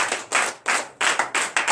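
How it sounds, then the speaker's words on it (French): A church congregation at a Sunday service claps in short, rhythmic bursts of hand claps, fairly close and lively, with no talking. "Vous donnez l'acclamation pour ça."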